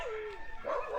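A loose dog barks and whimpers near a waterside spot at high tide, a brief moderately close yelp with a whiny tone, heard alone without talk.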